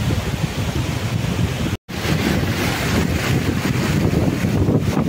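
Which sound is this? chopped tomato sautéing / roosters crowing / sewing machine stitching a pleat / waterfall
waterfall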